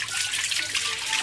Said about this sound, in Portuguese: Ah, é água, nossa, água.